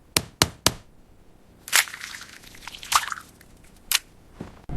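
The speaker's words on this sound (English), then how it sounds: "I crack the egg." Three quick sharp taps of an egg against a hard edge in a kitchen, followed by a wetter crack and squishy splitting of the shell, then a couple of lighter clicks, close and fairly quiet with no talk.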